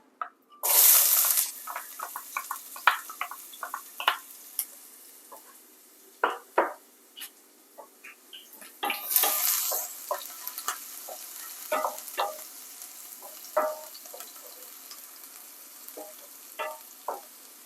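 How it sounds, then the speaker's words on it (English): Chopped onions dropped into hot coconut oil: a sharp burst of sizzling as they hit the pan, then scattered crackles, taps and utensil knocks, with a second sizzling flare-up midway, close and without talk. "Now I'm going to add my chopped onions."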